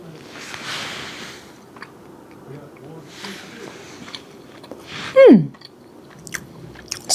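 A single loud crunchy bite into a baked zucchini snack stands out amid quiet mouth noises and faint background sounds, followed by soft chewing.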